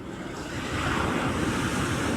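Ocean surf washes steadily onto a driftwood-strewn beach at Ship Creek on New Zealand's South Island, a continuous close roar of breaking waves mixed with wind buffeting the microphone, with no voices.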